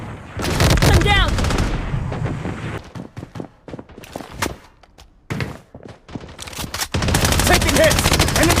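Gunfire in the shooter game Blood Strike, loud bursts of rapid automatic shots in two main volleys with scattered single cracks and thuds between them, with game voice callouts mixed in.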